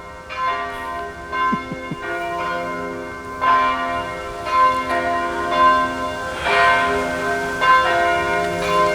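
Several bells ring in a steady, overlapping pattern, their clear tones sustained and layered, close and fairly loud with no voices.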